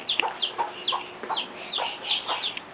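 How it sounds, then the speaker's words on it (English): Several chickens in an Arizona backyard flock cluck in repeated short bursts close by, a steady irregular rhythm of clucks with no talking. "Chickens, chickens, let's look at the chickens."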